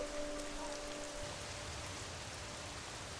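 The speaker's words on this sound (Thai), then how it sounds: "ฝนตกลงมาอย่างต่อเนื่อง" Steady rain falls at a rural homestay in windy, cold weather, a continuous dense hiss of drops on surfaces, fairly loud and even throughout, with a faint tonal hum fading early and no voices.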